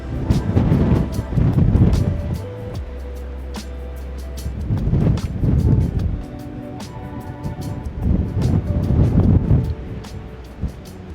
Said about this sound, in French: Ce vent, putain, mais ce vent il est terrible.